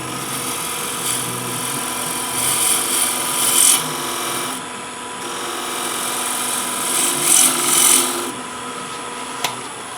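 A tool for slicing wood is sharpened with steady, continuous rasping strokes, loud and close, with slight swells in intensity and no talking over it.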